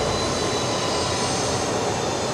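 Fokker 70 jet engines spool up at Brisbane Airport, a steady broadband roar that stays loud and unbroken across the moment.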